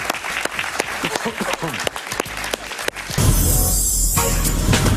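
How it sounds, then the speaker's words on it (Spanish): Studio audience applause on a Spanish-language television talk show, arriving abruptly and loud after some mixed sound and music, then holding as a continuous wash of clapping. "Un aplauso para Emanuel Rincón"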